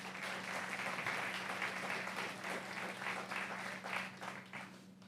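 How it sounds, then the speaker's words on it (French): Applause from a conference audience at an evening talk on Yves Saint Laurent and Picasso, a steady, fairly quiet patter of many hands clapping that continues without pause. "Une petite salve d'applaudissements"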